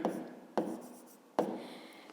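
Chalk or pen writing numbers during a fifth-grade math lesson, three quick strokes, each starting with a sharp tap and trailing off in a scratchy rub, close and alone.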